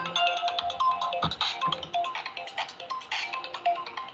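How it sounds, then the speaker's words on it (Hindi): A phone ringtone plays steadily as a melodic electronic tune, fairly loud and continuous, with a few faint background noises underneath. "फोन है जी"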